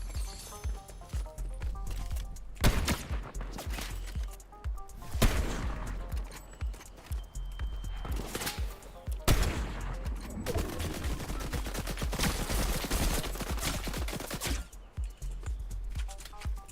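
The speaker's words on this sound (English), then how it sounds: "Shots are fired." Gunfire in the Fortnite video game, with repeated loud shots and bursts at irregular intervals, several sharp blasts standing out among quicker volleys.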